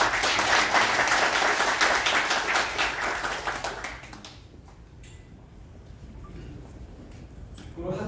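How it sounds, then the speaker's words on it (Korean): Audience applause at an opening ceremony for a tech valley event, dense clapping from a sizable crowd that fades out after a few seconds, leaving quiet room tone and faint voices. "박수 한번 주십시오."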